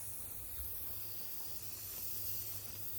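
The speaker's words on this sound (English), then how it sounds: "Spray paint here." A steady, continuous hiss of an aerosol spray, close and even, lasting the whole stretch without a break, over a low background hum.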